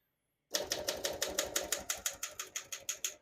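Rapid, evenly spaced clacks of a 1954 Royal HHP manual portable typewriter, about fifteen crisp keystrokes in a steady rhythm, close and fairly loud.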